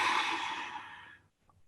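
A long audible exhale during a yoga balance pose, a soft breathy sigh that fades out after about a second, followed by a faint short breath, close and quiet with no talking.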